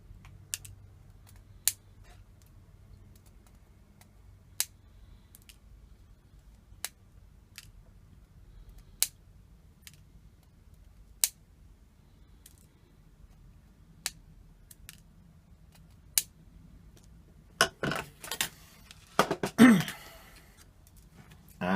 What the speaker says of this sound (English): we'll now trim the middle legs off